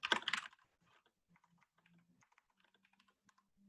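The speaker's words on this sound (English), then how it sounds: "typing is on point today" A computer keyboard gets a quick burst of loud key clatter at the start, then soft, sparse taps trail off into near silence.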